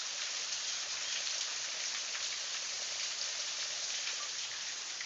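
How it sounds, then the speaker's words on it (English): Heavy rain pours off a roof in a steady, dense hiss, loud and close, continuous throughout with no voices. "It's loud out there where the rain's coming off the roof."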